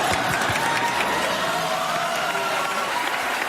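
Steady applause and cheering from a large audience at the Oscars ceremony, a continuous crowd roar with scattered whoops, moderately distant and even in level.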